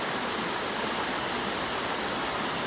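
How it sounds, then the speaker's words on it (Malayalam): A waterfall pours over slippery rocks during a low-water season, producing a steady, unbroken rushing hiss that fills the scene evenly from start to finish with no voices. "വളരെ മനോഹരമായ വെള്ളച്ചാട്ടമാണ്"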